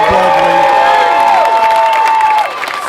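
A crowd at a street march against sexual violence claps and cheers loudly, with a dense wash of applause, scattered shouts and whoops, and people talking close by.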